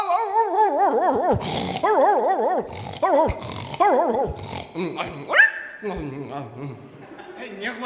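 A voice mimics a dog, growling and barking in repeated wavering bursts over about eight seconds, loud and close, with laughter and chatter from people around during a comedy sketch about a dog playing chess.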